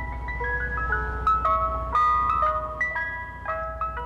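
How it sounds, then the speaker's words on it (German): An ice cream truck jingle plays a bright, tinkling electronic melody of quick repeated notes, loud and close, with no talking over it. "So klingt der berühmteste Eisjingle der Welt."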